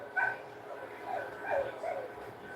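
A dog named JJ yips and barks in short, whiny bursts at close range, with a few separate yelps spread across the moment.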